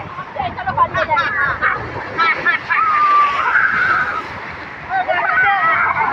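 Strong sea waves at Digha beach wash and slosh continuously, close and loud, under excited shouting and chatter from people nearby.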